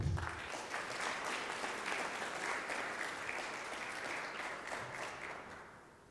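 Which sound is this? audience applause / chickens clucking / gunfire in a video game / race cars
audience applause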